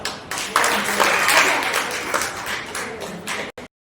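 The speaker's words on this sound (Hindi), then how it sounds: "जोरदार तालियां।" Loud applause at a national domestic women workers' organisation election event, a thick burst of clapping lasting about three seconds before an abrupt cutoff.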